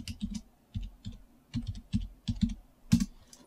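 Typing on a computer keyboard, close, crisp key clicks in short bursts of three or four strokes separated by brief pauses, with one harder keystroke near the end and no voices.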